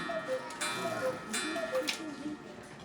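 A traditional Black Forest cuckoo clock with carved wood and metal parts ticks at a steady, even beat, close by, beneath someone talking.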